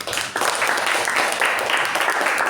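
A crowd claps steadily in a dense burst of applause, filling the space for a few seconds.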